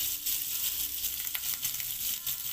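One spoon of butter heating in a pan for paneer butter masala, a quiet, steady crackling sizzle with light pops, close and alone.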